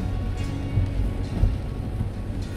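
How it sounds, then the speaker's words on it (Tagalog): Heavy rain pours down as a steady, dense roar with low rumbling underneath, continuous throughout and with no voices. "Lakas po ng ulan."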